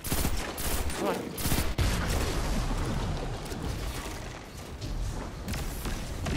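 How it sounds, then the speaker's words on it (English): Submachine gun fire in a video game: dense, loud bursts of rapid shots with heavy thuds, crowding the whole span nearly without pause, while a player's voice talks underneath. "Pull out that fucking submachine gun."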